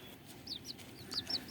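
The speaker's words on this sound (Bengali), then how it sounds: "এই হচ্ছে 15 দিনের ছোট ছোট মুরগির বাচ্চা।" Fifteen-day-old chicks make a handful of soft, faint, high cheeps in quick irregular succession over a quiet farm background.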